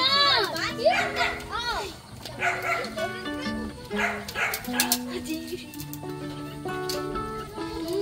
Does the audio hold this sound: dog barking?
yes